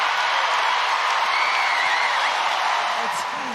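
A rugby stadium crowd at the Women's Rugby World Cup 2025 cheers a try in a steady, roaring wall of noise, with a commentator speaking over it.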